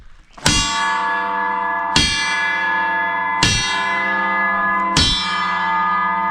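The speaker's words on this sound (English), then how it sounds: "Church bells are ringing." A large bell tolls four times at an even, slow pace, each loud strike ringing on with a long, humming resonance.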